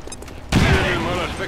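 A sudden, loud volley of enemy gunfire in XCOM 2 erupts and sustains for about a second, dense and close, with a voice talking over it.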